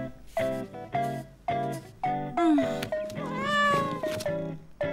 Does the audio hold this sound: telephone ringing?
no